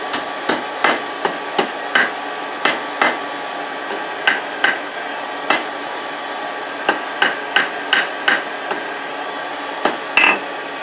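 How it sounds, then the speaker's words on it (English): A hammer rings sharply on hot steel over an anvil, bending a forged candle holder to 90 degrees; about twenty bright, close metallic strikes come in uneven bursts over a faint background hum, with no speech. "we're just going to do a 90 degree bend on it"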